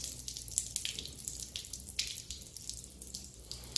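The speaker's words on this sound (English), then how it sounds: "So you can see all the water dripping off the table." Water running and dripping off a table onto the ground after a bonsai has been watered, a steady soft trickle with scattered brighter splashes, close by and fairly quiet, with no talking.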